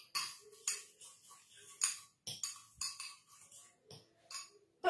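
A spoon stirring shawarma chicken masala in a bowl, irregular clinks and scrapes against the dish at close range, with quiet gaps between strokes.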